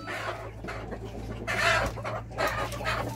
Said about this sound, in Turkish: Ama çok güzel bir horoz bu.